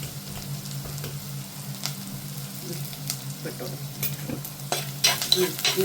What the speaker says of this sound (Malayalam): ഇടയ്ക്കൊന്ന് ഇളക്കി കൊടുക്കുകയാണ്.